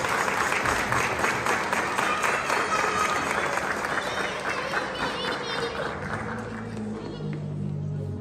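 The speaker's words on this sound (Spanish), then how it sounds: "Vamos a dar un fuerte aplauso al niño Jesús y a los ángeles" A crowd at a church celebration for Children's Day in Ahuiran, Michoacán gives a strong, sustained round of applause, dense and steady throughout, with murmuring voices mixed in as it gradually thins toward the end.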